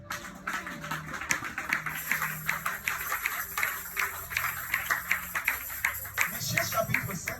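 A church congregation claps in steady rhythm while acclaiming the Lord, with voices shouting and singing over the continuous claps.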